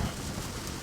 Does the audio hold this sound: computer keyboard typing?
no